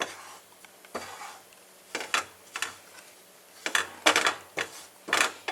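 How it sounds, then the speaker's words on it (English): Toasting coconut being stirred in a hot frying pan, with a utensil scraping and clattering against the pan in irregular bursts and soft background hiss between strokes. "make sure you don't burn too much of that coconut"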